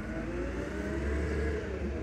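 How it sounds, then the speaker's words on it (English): A recycling garbage truck rolls past on a residential street, its diesel engine a loud, steady rumbling roar throughout with no one speaking. "Finally, an on-time"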